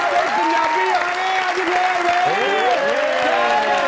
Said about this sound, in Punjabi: ਜ਼ੋਰਦਾਰ ਤਾਲੀਆਂ ਜੀ